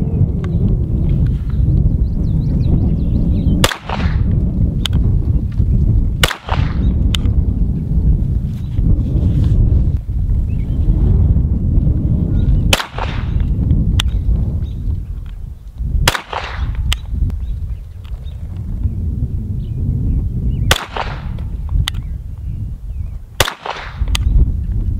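Sharp gunshots from a Sig P320 pistol fitted with a CAA MCK conversion kit ring out one at a time at an outdoor range, about eight spaced shots over steady wind buffeting the microphone.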